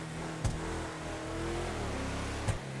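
Video game car engine revving under throttle during an off-road launch with cops, a steady mid-pitched drone with two sharp bumps, continuous and fairly close.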